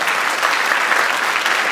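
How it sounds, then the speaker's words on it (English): Loud, sustained applause from a school Christmas concert audience, dense and even throughout with no speech on top. "Give yourselves a big round of applause."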